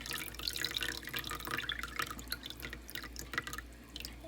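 Water pours and drips into a yogurt maker, a soft, close trickling with small splashing drops, faint and continuous without speech.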